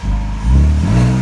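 A BMW E46 ZHP engine fitted with an Active Auto Works exhaust, revved close by in a short, loud burst that climbs quickly in pitch and holds a deep, rumbling drone.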